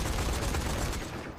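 Dense gunfire from a gun in a zombie video game, a fast continuous volley of loud shots filling the whole stretch before tapering off at the end, with no talk over it.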